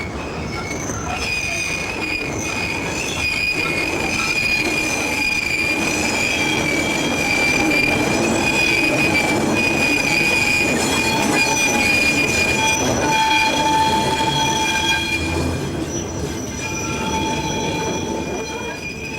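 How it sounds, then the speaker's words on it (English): A Westoe Colliery Railway train in 1988 labours loudly and steadily up a bank at full power, about 20 mph, its wheels squealing with a sustained high metallic whine over a constant rumbling engine and rolling clatter. "At the Staithes, the train emerges, using full power at about 20 miles per hour up the bank."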